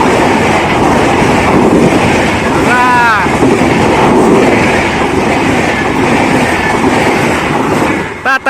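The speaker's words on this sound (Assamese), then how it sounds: "ট্ৰেইনখন চাওক আপোনালোকে" A passing train roars loudly and continuously nearby, its rumble and rattling wheels filling the scene, with a brief tonal wail partway through and the noise cutting off abruptly at the end.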